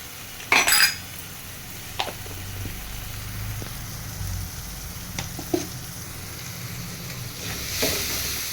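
Crab gravy ingredients sautéing in a pan, with a steady low sizzle and several sharp metallic clinks and scrapes of a utensil stirring against the pot. No one speaks.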